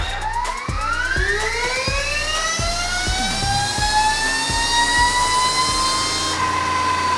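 A loud electric motor whines steadily upward in pitch, with rhythmic mechanical thumps beneath it, as an 80-horsepower electric supermoto motorcycle revs under load on a dynamometer.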